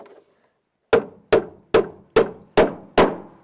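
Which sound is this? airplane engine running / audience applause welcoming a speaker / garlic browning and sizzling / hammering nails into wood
hammering nails into wood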